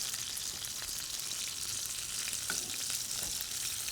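Grape leaves fry in olive oil in a pan, a steady close hiss and crackle, with faint scrapes and taps as they are flipped.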